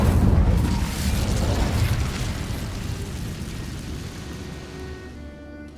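A fiery Incendio spell blast from Hogwarts Legacy lands as a heavy booming burst, then a rumbling roar that slowly fades over several seconds, with no voices.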